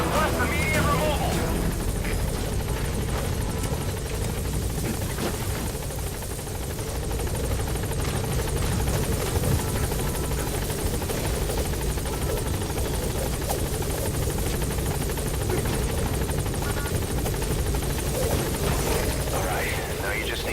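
A helicopter in Metal Gear Solid V hovers near a blocked landing zone, its loud rotor roar droning steadily and close for the whole stretch, with voices faintly mixed in.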